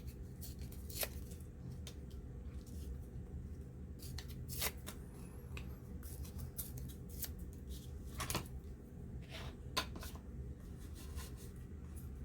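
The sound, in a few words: paper being torn out of an antique cook book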